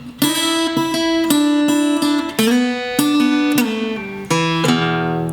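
Electric guitar blues shuffle played with hybrid picking, snappy plucked double-stops and chord stabs in a loose repeating rhythm, clear and close with no talking.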